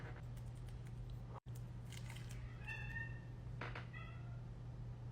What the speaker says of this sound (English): My cats are going crazy.